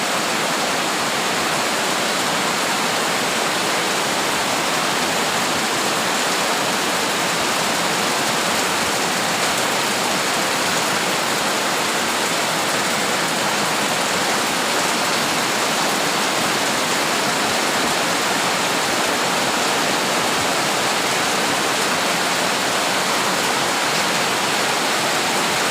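Heavy rain pours down steadily during a storm, a dense unbroken roar of water close by with no letup and no voices.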